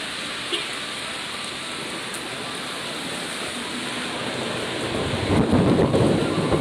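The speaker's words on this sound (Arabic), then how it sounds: "وبرق بقى ورعد." Heavy rain pours down steadily in Alexandria, Egypt, while thunder rolls and swells toward the end, growing louder and deeper.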